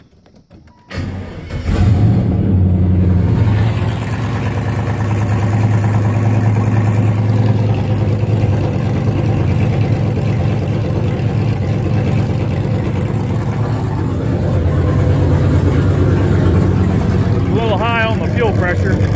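An LS 5.3 V8 swapped into a G-body car, with fuel injection trouble, cranks briefly and fires. It settles into a loud, steady, close-up idle that holds to the end.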